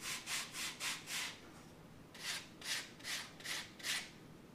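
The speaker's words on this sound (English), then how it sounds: "we want to sand a bevel in our wing root." Sandpaper rubs a bevel into the laser-cut wood wing root of a catapult glider kit, making soft rhythmic strokes, five and then five more, close and quiet.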